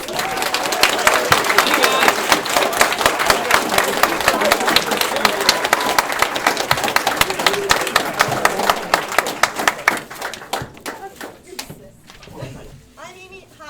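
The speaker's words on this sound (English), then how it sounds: "Round of applause, guys." An audience at a Boy Scout troop Court of Honor gives a sustained round of applause, dense and steady for about ten seconds before thinning out toward the end.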